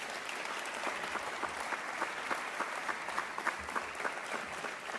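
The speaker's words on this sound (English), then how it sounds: "Let's give these guys a round of applause." Steady applause from a crowd at a press conference, sustained clapping at an even level throughout with no talking over it.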